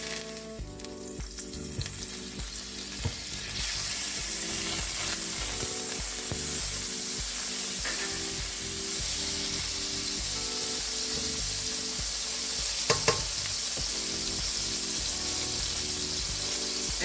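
Butter melting into about four tablespoons of hot vegetable oil in a pot, a close, steady hiss that swells after a few seconds and keeps up with faint crackles and one brief clatter.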